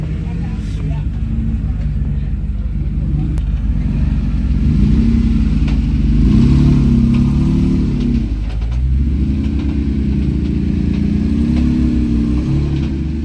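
A Jeep crawls a Level 9 off-road trail, its engine droning loud and close with throttle rising and falling through several revs, steady motor rumble throughout with no voices over it.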